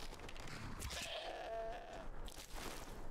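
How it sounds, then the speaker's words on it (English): A goat in the video game Skyrim bleats in a short, wavering cry over a soft, crunchy background of footsteps and game ambience, faint and fairly close. "Oh. Hello there, goat."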